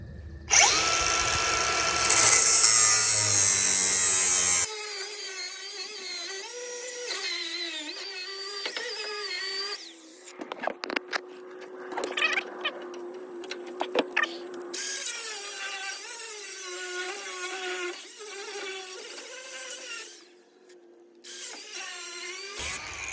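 A reciprocating saw with a worn blade grinds through a rusted truck bed bolt on a 1985 GMC K3500, loud and close, with rising and falling whining tones, pauses and restarts of the cut.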